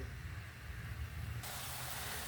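Onions sizzle and soften in a pan for a chukka kura tomato curry, a steady close hiss that brightens and swells in the second half, with no talking.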